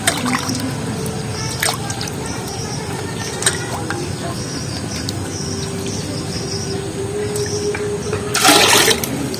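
Jackfruit seeds being washed by hand in water, a steady trickling and sloshing with a louder splash near the end, close and fairly quiet with no talk.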